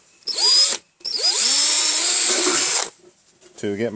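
A step drill bit bores holes into a #10 tin can with two loud, whining bursts, a short one followed by a longer grinding run, then a brief voice right after.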